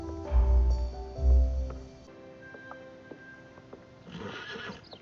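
A horse neighs loudly twice in its stall, each whinny strong and close, followed by quieter shuffling and a few hoof clops, with faint rustling noise toward the end.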